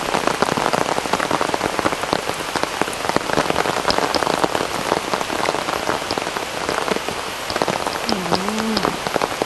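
Rain falling at a cave beside an emerald-green pool, a dense, continuous patter of drops hitting surfaces close by, steady throughout, with a brief faint squeak near the end and no speech.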